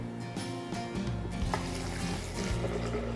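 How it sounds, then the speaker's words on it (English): Water pours and trickles steadily into a blender over a low motor-like hum, a gentle liquid splash lasting a few seconds. "so you're going to add your water"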